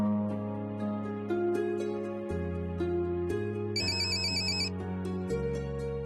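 A telephone rings with an electronic melodic ringtone, loud and close, in a steady stepping tune that carries on for several seconds without any voices.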